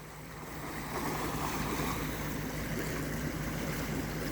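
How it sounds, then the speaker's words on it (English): Floodwater from a flooding river rushes out of a roadside culvert beside a blocked-off highway, making a steady broad roar of churning water with some wind buffeting. The sound is continuous and moderately close, with no voices. "you can see that culvert, it's pushing some water out right there"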